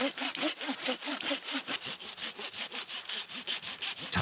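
A hand saw cuts through a young cypress tree in a forest, with steady back-and-forth strokes repeating rhythmically, close and loud with no one talking.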